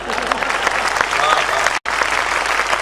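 Dense clapping from a poetry recital audience fills the room, loud and continuous with a single abrupt gap of silence before it resumes.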